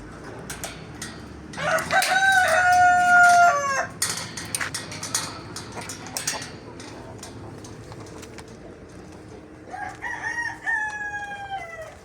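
Chickens and a rooster in a coop make a racket: two loud, drawn-out crows ring out near each other, one early and one late, while softer clucks and scattered bird calls fill the quieter stretch between.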